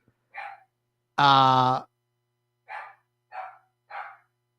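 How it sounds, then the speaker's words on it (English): An indoor dog barks in short, sharp bursts, one louder and longer bark followed by three quicker, softer ones, with silence between. "my dog's barking"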